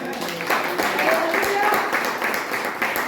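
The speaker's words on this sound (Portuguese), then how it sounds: "Você pode aplaudir o Senhor?" Congregation applauding during a Portuguese-language church sermon, a steady dense wash of many hands clapping that fills the whole stretch, with voices and shouts of praise mixed in.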